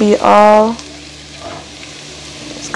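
Garlic frying in a pan for an Alfredo sauce, with a steady loud sizzle throughout and a brief stretch of talk at the start.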